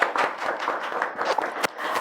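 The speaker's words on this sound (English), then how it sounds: "Can we just give a round of applause for Tare?" Audience at a creative club session applauding a speaker, a short burst of dense clapping from a modest crowd, fairly close and steady for about two seconds.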